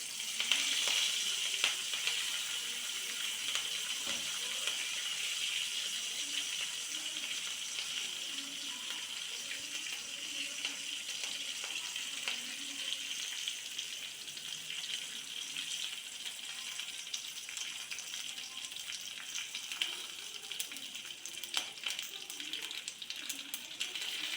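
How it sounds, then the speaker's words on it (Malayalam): A steady, soft sizzle and spatter of mustard seeds and curry leaves frying in oil, with faint pops and clinks and no talking. "കടുക് പൊട്ടി വരുമ്പോൾ കുറച്ച് കരിവേപ്പിലയും ഇടാം"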